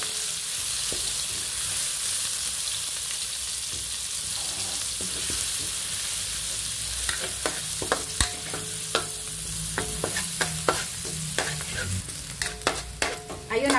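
Onions sizzling in hot oil in a pan after browned garlic, a steady frying hiss with scraping and stirring clicks from a utensil growing frequent in the second half, no talking.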